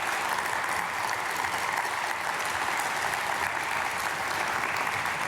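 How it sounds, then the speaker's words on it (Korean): A church congregation at Myungsung Church dawn prayer applauds after a deacon's testimony, steady dense clapping held at an even level for several seconds with no voices over it. "박수."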